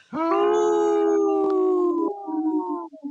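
A person imitates a wolf howl: one long, steady, sustained howl that wavers and breaks slightly toward the end, close and loud with no other sounds.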